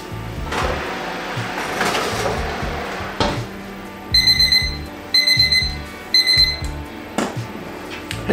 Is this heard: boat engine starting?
no